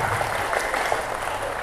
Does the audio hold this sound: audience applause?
yes